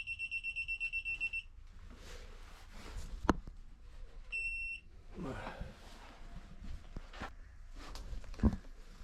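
An electronic device being installed in a GT86 car gives a rapid run of high-pitched beeps, then one short beep a few seconds later, among soft handling clicks and knocks.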